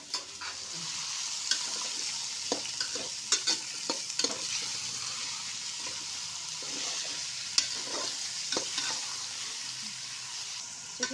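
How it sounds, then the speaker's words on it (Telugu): Chicken pieces fry in a pan with ginger and garlic, a steady sizzle broken by repeated clacks and scrapes of a spatula as the meat is turned and stirred. "అల్లం వెల్లుల్లి వేగిన తర్వాత చికెన్ ముక్కలు వేసుకోవాలి"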